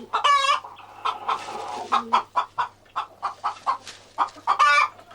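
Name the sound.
broody hen clucking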